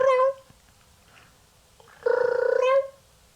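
A person imitates a cat's meow, one short nasal cry followed after a pause by a longer, louder wavering meow, close and alone.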